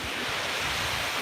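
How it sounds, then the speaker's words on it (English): Strong wind roars continuously on a Colorado mountaintop, buffeting the microphone in a broad, rumbling rush with no other sounds. "So, a very windy day up in the backyard mountaintop."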